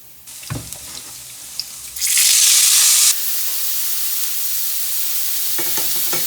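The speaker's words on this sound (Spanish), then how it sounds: "Dorar los piñones y las pasas ligeramente" Pine nuts and raisins toast in a pan for Catalan spinach, with stirring clatter, then a loud hissing sizzle burst that settles into a steady, quieter frying hiss.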